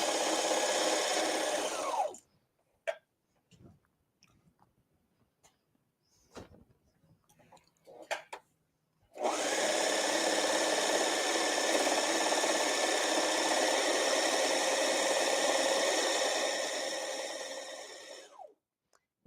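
A sewing machine stitches a cardigan seam in two long bursts of fast, steady whirring up close, separated by a quiet stretch of small handling clicks and fabric rustle.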